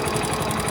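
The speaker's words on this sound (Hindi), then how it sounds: "झनझनाहट की आवाज है जैसे कुछ तो ऐसे अंदर खुल गया हो या फिर ढीला हो गया हो ना, जैसे स्क्रू वगैरह" A Splendor motorcycle engine, tested on ethanol fuel, runs with a steady mid-pitched buzzing rattle that pulses quickly and evenly, heard close up for under a second.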